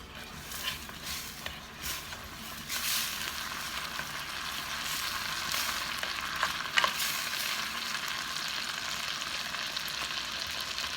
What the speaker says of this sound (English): I'm gonna add the garlic, the squeezed garlic, about 2 tablespoons or a tablespoon.